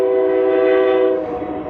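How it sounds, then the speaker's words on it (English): A train horn blares loud and sustained, a rich chord held for over a second before fading slightly, echoing as the train passes through a canyon near Bozeman Pass, Montana. "Got a train coming through."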